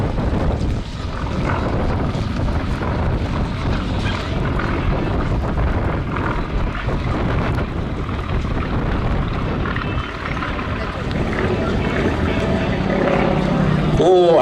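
Aerobatic display aircraft with a smoke system performing tumbles and flick rolls at the Little Gransden flying display, a steady droning engine roar overhead with wind buffeting, under a commentator's ongoing talk.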